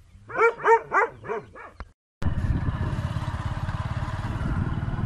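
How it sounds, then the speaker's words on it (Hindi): Dogs at a rural homestead bark at a stranger with five loud, quick barks close by. Then a steady low engine drone takes over. "दो कुत्तों ने भौंकना शुरू कर दिया है"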